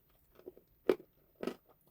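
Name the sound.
person munching and crunching food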